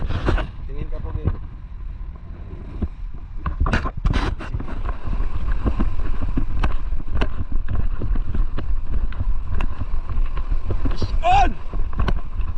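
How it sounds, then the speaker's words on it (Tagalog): Strong wind buffets the microphone on a beach during shore casting for fish in the Philippines, a loud rushing roar under bursts of excited talk. "Ayan yung weather, medyo mahangin."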